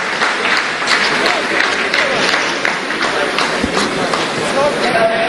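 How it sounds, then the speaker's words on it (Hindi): Scientists in a lunar mission control room burst into thunderous applause after a lander completes a descent phase, a dense, steady roar of clapping that fills the whole stretch at close range. "आप इस तालियों के गड़गड़ाहट को सुन सकते हैं"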